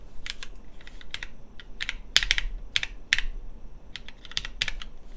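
A Sintesi mechanical keyboard with GMK keycaps and MX Black switches is typed on in irregular bursts of crisp, close clacks, some keystrokes landing in quick clusters and others spaced apart, with no talking.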